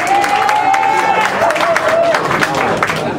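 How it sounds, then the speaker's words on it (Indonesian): Audience at an Indonesian stand-up comedy show claps and cheers steadily for about three seconds, a dense burst of applause with a thin whistle-like tone running through the first two seconds. "Tepuk tangan dulu untuk Oma Munir."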